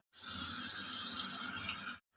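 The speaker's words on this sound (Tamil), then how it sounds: "எனக்கு தேவையான தண்ணியை நான் ஊற்றிக்கிறேன்." Water poured steadily into a pan of mushroom gravy made with ground onion and cashew paste, a continuous close splashing hiss lasting about two seconds with no talk.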